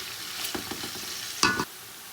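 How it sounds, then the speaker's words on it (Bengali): Grated coconut and potatoes frying together in a pan, a soft sizzle under a few quick utensil scrapes and one sharper clatter, brief and close. "নারকেলগুলো আলুর সাথে একটু ফ্রাই করব"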